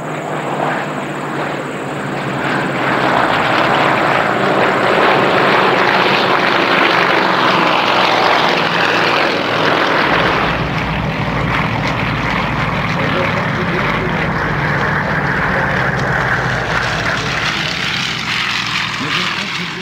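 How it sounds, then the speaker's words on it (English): Propeller engines of a Nanchang CJ-6 and Yak 52 during an air race, a loud steady drone that swells early and holds strong as the aircraft make a high-speed downhill run. "the aircraft can make a high-speed downhill run to the west."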